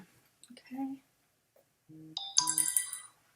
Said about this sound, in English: Guess I didn't shut my phone off.